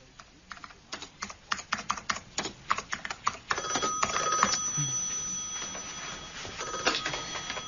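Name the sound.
telephone ringing in an office, radio play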